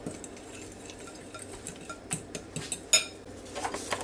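A metal utensil scrapes and clinks against a bowl while stirring a salmon patty mixture, a close run of irregular taps and scrapes that grows busier toward the end, with no talking.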